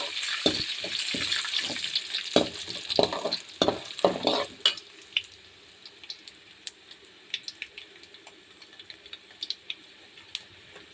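Curry leaves and green chillies frying in a pan, loud bursts of crackling and stirring in the first few seconds, then a quieter sizzle with sparse sharp pops and clicks.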